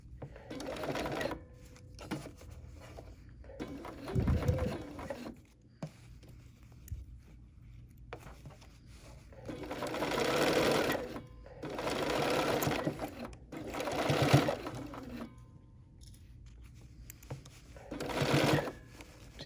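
A Bernina sewing machine stitches a quarter-inch seam in several bursts of rapid whirring separated by short pauses, close and fairly quiet, with faint rustling between runs.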